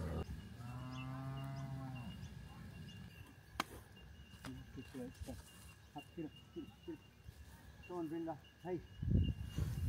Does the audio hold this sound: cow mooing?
yes